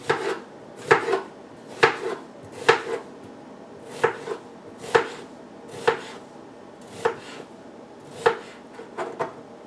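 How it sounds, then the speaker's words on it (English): A knife chops food on a cutting board for a simple German soup, sharp close thuds falling in a fairly steady rhythm about once a second, with a quick double tap at the end and no voices. "We just chop that real quick, a little bit more."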